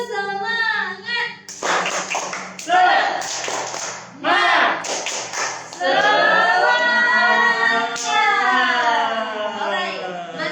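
A group, children among them, does a rhythmic clapping chant at a children's church gathering, bursts of sharp claps alternating with lively voices calling out in time, loud and close.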